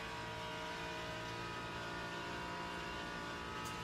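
BMW race car engine in the Le Mans Ultimate racing game, a steady high-pitched droning whine held at constant volume with no talk over it.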